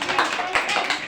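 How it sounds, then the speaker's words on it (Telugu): A brief burst of children clapping their hands together in a classroom, quick uneven claps blended with voices for about a second. "హృతిక క్లాప్స్ కొట్టండి అందరూ ఒకసారి"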